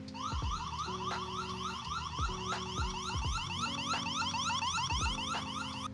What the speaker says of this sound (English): So the siren will play the siren for you.